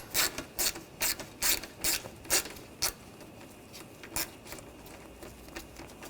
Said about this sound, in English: take this bolt out, same 10mm socket